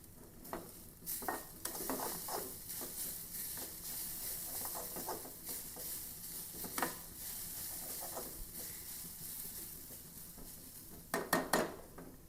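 Grated coconut dry-roasting in a pan for sambar: a close, continuous soft sizzle and hiss with repeated scraping strokes of a spoon, and a quick cluster of clatters near the end, no voices.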